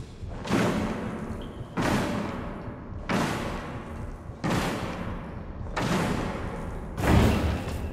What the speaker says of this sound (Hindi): दरवाजा तोड़ गया वो।